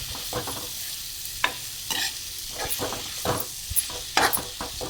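Gojju mixture frying slowly in a pan as it is stirred, a continuous gentle sizzle with repeated scraping spatula strokes, close and moderately loud, no voices.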